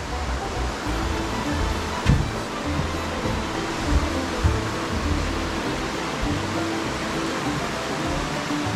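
Steady broadband rush of a flowing mountain stream in Baxter State Park, Maine, a continuous close stream with no voices, its texture even and unbroken throughout.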